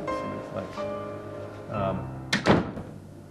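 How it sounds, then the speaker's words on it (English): A house door swings shut with a solid thunk near the end, after someone talks. "I'm going to shut the door here and we'll just turn off the light"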